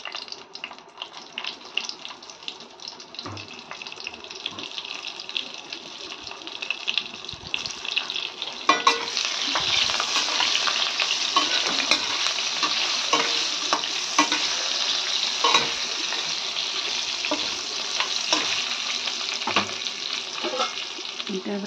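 Bitter gourd dropped into hot oil with asafoetida and curry leaves, a steady crackling sizzle that swells louder partway through, with stirring scrapes and occasional knocks, no voice over it.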